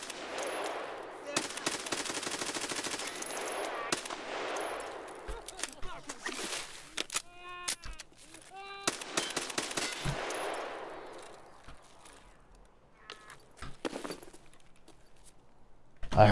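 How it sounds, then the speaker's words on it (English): Gunfire crackles during an Escape from Tarkov raid, with repeated sharp bursts and a rapid volley early on and further shots later, mid-distance, interspersed with short whistling tones and quieter stretches; no talking. "I heard that shotgun, I had to go and get it."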